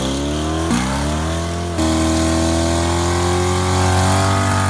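A 1988 Ford Mustang engine revving up loud and close, the pitch climbing in steps with gear-like breaks before holding at a high steady drone.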